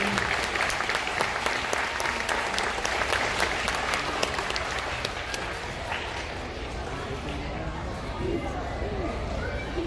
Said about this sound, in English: let's go ahead and give these 5th graders a round of applause